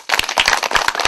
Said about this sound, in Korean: 예, 박수 한번 쳐주세요.